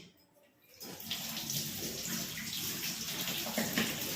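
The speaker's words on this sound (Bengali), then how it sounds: "চিকেনটা ভিজিয়ে দিচ্ছি" Tap water gushes into a sink to soak chicken pieces, a steady, close, full-bodied splashing stream that starts about a second in and continues alone.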